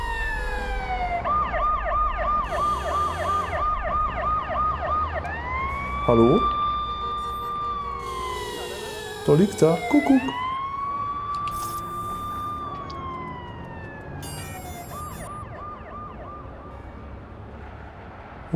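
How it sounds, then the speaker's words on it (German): In the video game Watch Dogs, an ambulance siren wails and yelps loudly, switching patterns and sweeping up and down, with brief thumps and someone talking over it. "jetzt kommt der Rettungswagen"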